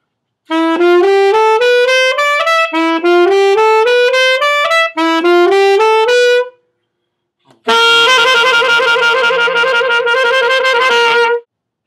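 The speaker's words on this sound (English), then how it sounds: "The alto 3 and 4 parts sound a little bit like this." Alto saxophones play the alto 3 and 4 parts of Rhapsody in Blue: a stepped melodic line in repeated phrases, then a brief pause before a fuller, sustained chord passage.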